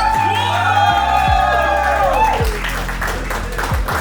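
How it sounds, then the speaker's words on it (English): Audience at a Valorant esports fan meet-and-greet event cheers and claps loudly, with whoops over steady applause and music underneath. "Let's give a huge cheer for True Ripper's Valorant roster."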